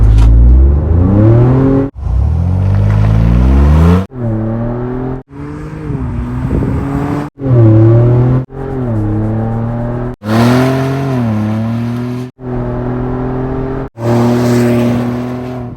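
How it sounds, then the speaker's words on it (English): A Ford Bronco fitted with an MBRP stainless steel exhaust accelerates hard through repeated gear pulls, each rising engine note cut by a brief shift gap, loud and close with a deep exhaust drone. "Let's get in this Bronco, see what performance gains we've gotten with the MBRP exhaust."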